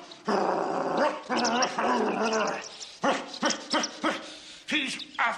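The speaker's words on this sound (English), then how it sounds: "And barks, too." A dog barks and growls in rapid, loud bursts, some sustained and some short and choppy, heard close up with no talking over it.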